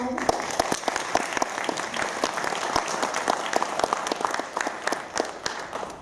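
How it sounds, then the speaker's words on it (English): A room full of people at a Hakka conference in Toronto applauds, dense steady clapping with sharp individual claps standing out, continuing for several seconds. "I want to applaud"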